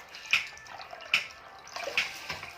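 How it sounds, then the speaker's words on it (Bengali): Water is poured over a pet's head during a shampoo bath, heard as three separate soft splashing pours spaced about a second apart, near and moderately quiet, with no talking. "এদিকে তোমার মাথা ধুয়াচ্ছি"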